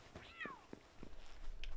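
A cat meows in the game Palworld, a short high rising call followed by a few soft chirps, faint and close with quiet game ambience behind it.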